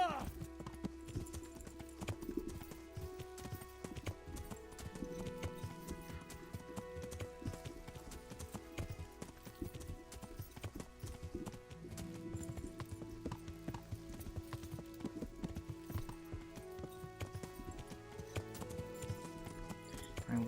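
Steady clip-clop of horse hooves trotting throughout in the video game Kingdom Come: Deliverance, with background music and occasional game sound effects layered over the rhythm.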